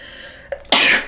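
A single sharp sneeze, a short in-breath catch followed by a loud burst of air, close and abrupt.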